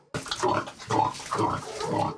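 A lone pig grunts close by in a village yard in a series of four or so loud, throaty snorts in a steady rhythm.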